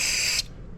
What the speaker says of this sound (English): spray some in there, a little more in there